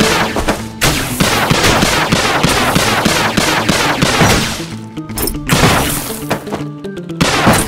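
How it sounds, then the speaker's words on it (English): Rapid gunfire and explosive bursts from weapons in the zombie shooter game Undead Squad, including a rocket launcher, a dense loud stream of sharp cracks and blasts with short gaps near the end. "Rocket launcher!"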